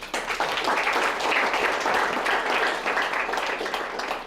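An audience claps together in a steady, dense burst of applause that stays loud and even from start to finish, with no talking over it.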